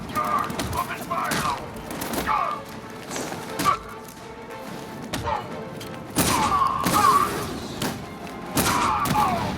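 Gunfire in the Batman Arkham Knight video game, heard as bursts of rapid shots and heavy thuds in the middle distance, recurring in clusters throughout with voices calling out between them.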